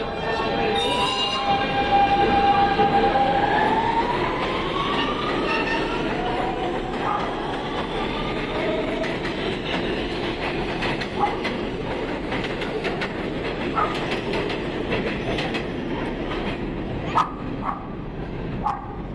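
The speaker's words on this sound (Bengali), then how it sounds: "এই যে মাটির নিচে ট্রেন সবাই অপেক্ষায় আছে" Busy underground metro station ambience about 200 feet below ground, with a train rolling and squealing along the rails, a steady rumble filling the space throughout, with scattered clanks and distant voices of waiting passengers.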